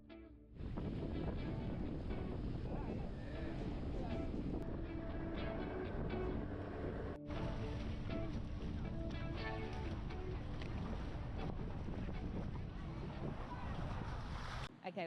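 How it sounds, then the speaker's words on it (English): A tiny boat crosses choppy Caribbean waters toward Johnny Cay off San Andrés, with loud continuous engine and wave roar, heavy wind buffeting the microphone, and voices faintly underneath. "you're going to come over in a tiny boat and waves are going to crash completely over that boat"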